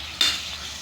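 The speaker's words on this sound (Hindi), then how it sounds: "ये देखें चिकन हमारा जो है वो अपनी कलर चेंज कर रहा है, ये फ्राई हो रहा है साथ साथ" Chicken fries in oil in a karahi, giving a short close sizzle with a stirring scrape and no voices.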